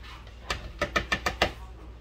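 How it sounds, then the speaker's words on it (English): A utensil taps and scrapes through cooked hamburger meat in a Tupperware stack cooker, making about six quick, close knocks in a loose rhythm. "Break down that hamburger meat so we can start to layer it into our lasagna"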